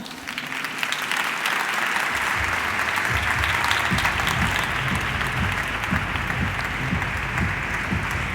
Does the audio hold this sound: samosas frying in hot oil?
no